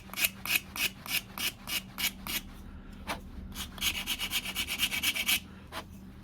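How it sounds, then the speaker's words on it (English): Hand rasping on wood with the finer side of a Shinto rasp, shaping a custom Cold Steel pack axe handle: quick rhythmic scraping strokes, about a dozen in bursts with a brief pause, close and clear with no talking. "I'll take the finer side of the Shinto file."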